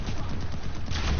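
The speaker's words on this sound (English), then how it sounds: "Man, I see a bunch of gunfire up here." Battle gunfire in the PlanetSide 2 video game forms a dense, continuous rattle of overlapping shots, steady and fairly loud with no pauses.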